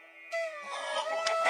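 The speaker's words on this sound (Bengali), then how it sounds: "আমাদের বাড়ির ভেতর থেকে অনেক মোরগ মুরগির ডাক শোনা যাচ্ছে" A rooster and hens calling near a house, an abrupt drawn-out crowing call followed by overlapping clucks, fairly close and clear.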